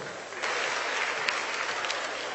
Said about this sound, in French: Je voudrais qu'on puisse applaudir le commissaire Wayoro.